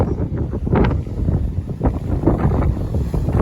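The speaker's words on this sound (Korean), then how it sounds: "와! 바람!" Strong wind gusts buffet the microphone at a beach on Jeju, a steady rumbling roar that swells and dips throughout, with surf or sea noise mixed in.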